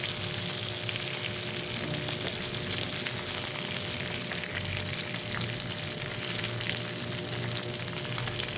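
Chicken inasal cooking in a pan over low heat, a steady dense sizzle with crackling pops that holds evenly from start to finish.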